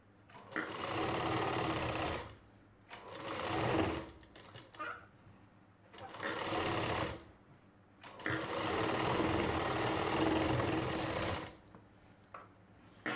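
Electric sewing machine stitching a Rajputi suit blouse (kanchli), running in several bursts of steady mechanical whirring separated by short pauses, close and fairly loud, with no talk.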